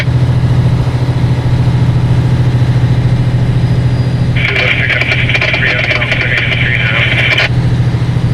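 A radio-controlled wide-frame truck drives through the bush in cold weather, a steady low hum running throughout with a brighter whining motor burst lasting a few seconds midway.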